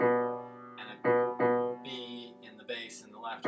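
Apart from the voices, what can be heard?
No everyday noise stands out behind the speech.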